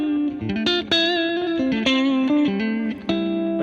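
An electric guitar rings through a 1963 Fender Deluxe Reverb amp set with reverb on 2, sustained clean notes and short melodic phrases played up close, bright and slightly distorted, with no talking.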